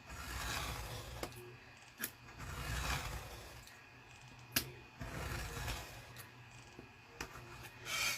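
A paper piece for a large minibook being cut out: soft rasping, rubbing cuts with a few sharp snips and clicks, close and quiet, in irregular strokes with no talk.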